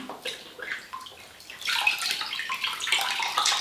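Wet fabric soaked in soapy room-temperature water for wood dyeing is lifted out, giving close sloshing, dripping and trickling water sounds that grow louder and busier partway through.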